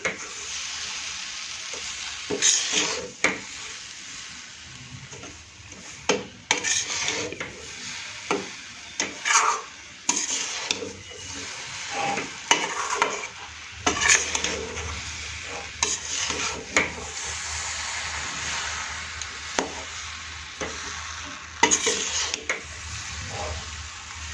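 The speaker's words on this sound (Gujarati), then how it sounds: "આમાં જ આપણે ગોળને મેલ્ટ કરી દઈશું।" A spoon stirs jaggery as it melts into warm flour in a pan over a low flame for sukhdi, steady scraping and soft sizzling with repeated rhythmic strokes, close and clear, with no talking.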